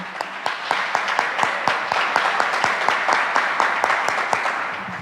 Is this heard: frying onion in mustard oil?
no